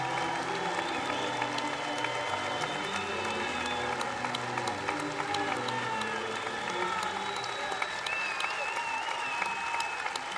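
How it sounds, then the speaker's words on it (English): A baseball crowd at a Lowell versus Brooklyn game applauds a pitcher, steady distant clapping spread through a large crowd with faint cheering and whistles over the ballpark hum. "Well-deserved round of applause right there."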